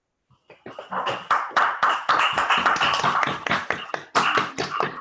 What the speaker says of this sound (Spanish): vamos a dedicarle un aplauso a Alejandro.